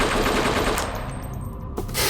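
A machine gun fires on a pawn in the Dragon Chess video game: dense, continuous loud fire that thins slightly midway, then one last sharp burst near the end.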